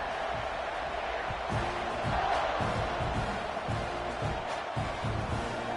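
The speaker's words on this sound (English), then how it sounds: "They're set to kick it off, and this crowd now ready to get behind them." American college football stadium crowd at an SMU versus Texas A&M game, a dense sustained roar of cheering at kickoff with scattered shouts and thumps, steady and loud throughout.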